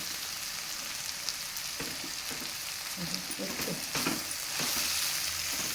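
Ivy gourd frying in a pan with garlic chili powder, a steady hiss of sizzling oil, with a spoon stirring and scraping through the middle of the clip.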